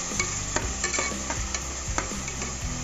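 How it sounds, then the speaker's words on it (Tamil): Crab masala with curry leaves sautés in a pan, with a steady sizzle under repeated rhythmic scrapes and stirs of a spatula. The stirring is close and continuous, and no one speaks. "நல்லா கை விடாமல் வதக்கினே இருங்க"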